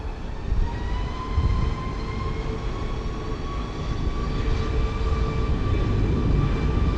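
Southwest airliner landing at San Juan's Luis Muñoz Marín airport, a steady loud jet engine roar with rising whine tones and rumble lasting throughout, no voices.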